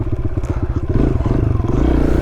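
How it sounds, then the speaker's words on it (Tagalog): A Kawasaki KLX dirt bike rides off-road close up, its engine thumping in a fast, even pulse that grows louder and rougher, with clatter and scraping from the rough ground. "Gamit nating motor ngayon, KLX."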